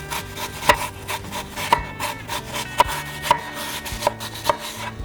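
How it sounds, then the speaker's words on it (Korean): A knife chops through an apple on a board in sharp, evenly spaced cuts, about six crisp strokes, close and clear with no talking. "사과는 적당한 사이즈로 잘라줍니다"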